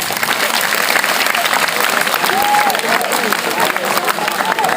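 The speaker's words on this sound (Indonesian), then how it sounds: "coba tepuk tangan" Students at a school gathering clap together in a dense, loud burst of applause that carries on steadily from start to finish, with crowd noise and a few voices mixed in.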